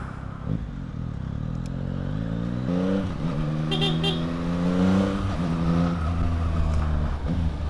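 A Yamaha XSR900 motorcycle engine under way on a daily ride, heard up close with rising and falling revs as it pulls through gears, a throaty mechanical drone with wind rush underneath.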